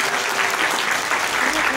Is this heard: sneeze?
no